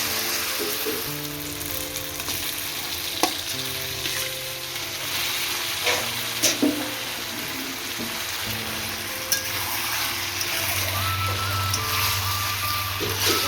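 Khichuri tipped into a pan of sizzling, oil-releasing turmeric spice paste, giving a steady close frying hiss with a few light clatters and stirring scrapes and no talk.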